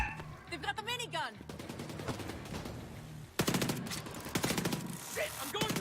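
Rapid machine-gun and rifle fire in The Division 2, with a minigun-wielding enemy in the fight, sounds in dense sustained bursts, loud and close, with a brief lull before another heavy volley.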